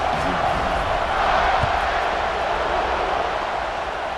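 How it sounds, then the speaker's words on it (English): A stadium crowd in the EA Sports College Football 26 video game keeps up a loud, continuous buzz after a score, with no clear talk on top. "this crowd is buzzing after that last score"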